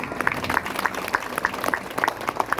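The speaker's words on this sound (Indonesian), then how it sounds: "Tepuk tangan yang mulia." An audience claps at a religious gathering, steady crowded applause with a few raised voices mixed in, moderately loud and continuous throughout.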